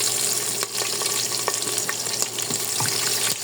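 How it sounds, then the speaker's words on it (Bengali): Onion and chili frying in hot oil with spices, a steady loud sizzle alone with occasional spoon scrapes and stirring taps. "এখন আমি দিয়ে দেবো পেঁয়াজ আর মরিচ"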